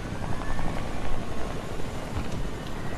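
A helicopter in a video game keeps up a loud, steady rotor thrum with windy rushing noise, close and continuous, with no talking over it.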